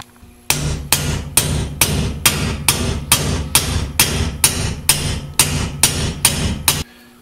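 Steady metal-on-metal hammer blows drive a new bushing into a Turbo 400 automatic transmission case with a bushing driver, about eleven sharp, evenly spaced strikes, close and loud, with no talking.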